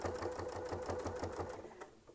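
A sewing machine runs steadily, stitching a quilt border along a Westalee sampler ruler, its even needle beat repeating quickly and closely for about two seconds before slowing near the end.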